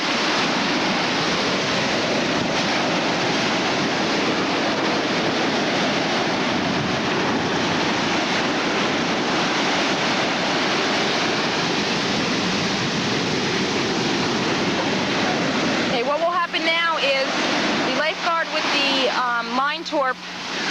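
Steady roar of ocean surf breaking at a Jersey Shore beach during a lifeguard rescue drill, a loud continuous wash of water that fills the scene before a short burst of chirpy, fluttering sounds near the end.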